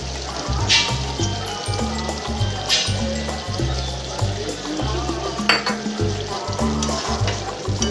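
Chicken frying for curry in a pan, a steady sizzle with the scrape and clatter of stirring, under a rhythmic low musical beat.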